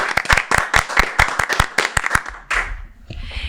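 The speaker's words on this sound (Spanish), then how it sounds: "un fuerte aplauso para Eduardo" Applause for a guest on a podcast episode, a few people clapping close by in sharp, rapid, distinct claps for about two and a half seconds before the clapping stops and a low murmur remains.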